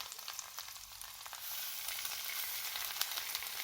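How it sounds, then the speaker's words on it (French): Salmon fillet frying in oil in a non-stick pan over medium heat, a steady broadband sizzle that swells and holds loud and close, with occasional pops and no talking. "Je vais venir rajouter mon poisson pour le faire cuire."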